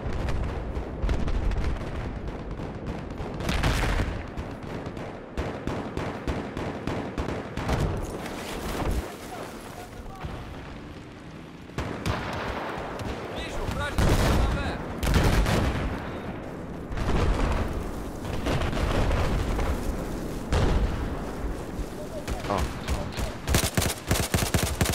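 Gunfire and explosions in Battlefield 4 Conquest multiplayer on Xbox One: loud, repeated rifle bursts and heavy booming blasts in irregular clusters over 25 seconds, with brief quieter gaps.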